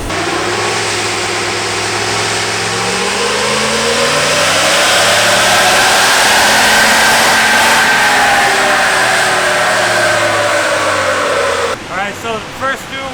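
A 2019 Ram Rebel truck with a new exhaust accelerates hard in fifth gear, a loud, close, continuous engine drone climbing in pitch for about twelve seconds before dropping to a throbbing, pulsing rumble.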